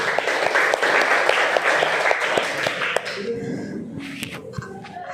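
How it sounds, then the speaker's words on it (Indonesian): A classroom audience applauds after a student presentation, with dense, steady clapping filling the first three seconds, then thinning into scattered claps and murmuring voices. "Tepuk tangan."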